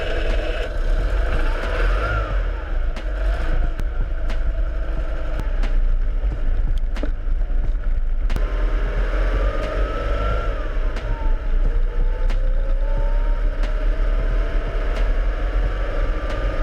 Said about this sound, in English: filmed the exhaust in action